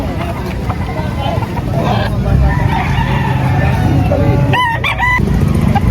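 Chickens cluck and a rooster crows amid a noisy crowd of chatter at a poultry market in Padre Garcia, Batangas, with a bright crow rising near the end.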